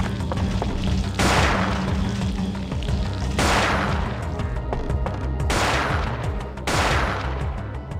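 Repeated bursts of gunfire from a weapon used against moths in Parasite Eve 2, several loud broadband blasts roughly every two seconds over a dense, rumbling game soundscape, with no talking.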